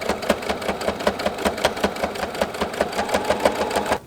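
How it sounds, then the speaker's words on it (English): Sewing machine running steadily while stitching the side seams of a quilted vest made from a thrifted quilt, a fast even rhythmic needle clatter throughout, close and fairly loud, with no talking. "we're gonna line them up and sew them inside out, so right along these edges right here"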